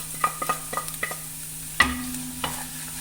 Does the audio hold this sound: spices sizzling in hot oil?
yes